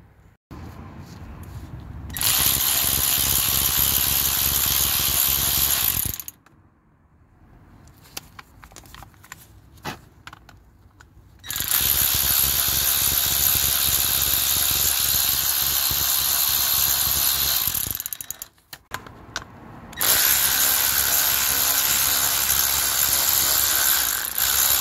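Bolts on the CVT gearbox pan of a Rover 45 being undone with a ratchet, three long loud bursts of rapid close whirring and clicking, separated by short quieter gaps with faint handling noises.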